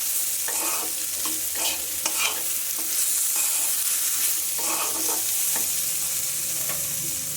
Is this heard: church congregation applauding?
no